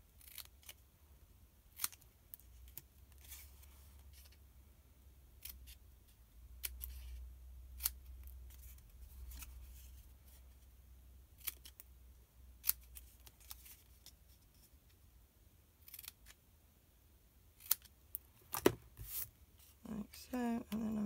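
Scissors snipping and notching a card stock flap for a gift box, a quiet close series of sharp, scattered clicks and snips over near silence, busier toward the end.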